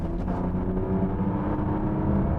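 Porsche Panamera 4S E-Hybrid Sport Turismo accelerating hard on combined electric and petrol power, a steady, loud low engine drone with rising layered tones, heard from inside the car with no talk.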